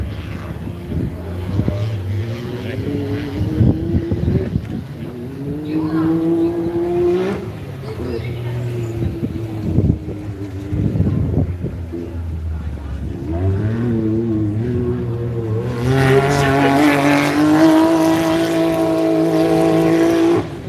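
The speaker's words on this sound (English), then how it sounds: "comes Matty Hall in his dad's buggy. Great deal of throttle control being shown there." A racing buggy engine revs hard under throttle. Its rising and falling tones move through gear changes and finish in a loud, bright wail, while a commentator talks over it.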